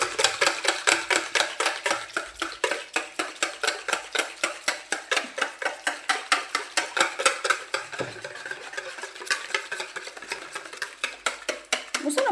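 Cupcake batter for chocolate cupcakes is beaten by hand in a bowl. The utensil clacks against the sides in a fast, regular rhythm of sharp strokes, close and fairly loud, with a short pause midway before the stirring resumes.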